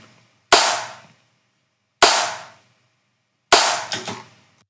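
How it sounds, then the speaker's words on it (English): Three layered snare drum sample hits, spaced about a second and a half apart, each a sharp loud crack with a short decaying tail, the last one with a slight flam, alone with silence between. "snare layers all together."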